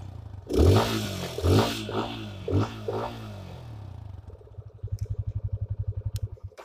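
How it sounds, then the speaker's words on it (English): Yamaha FZ25 motorcycle exhaust note up close: three or four sharp throttle blips rise and fall, then the engine drops back to a quick, even, bassy idle pulse. No one speaks. "and you can hear the exhaust note of this bike."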